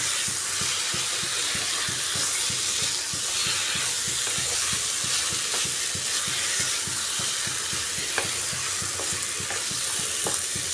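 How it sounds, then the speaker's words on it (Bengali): Chicken is stir-fried with spices in a pan until well coated for a dry chicken dish. Constant close sizzling runs under quick, rhythmic scraping strokes of a spatula. "এবারে চিকেনটা দিয়ে ভালো করে কষিয়ে নিতে হবে মশলার সাথে"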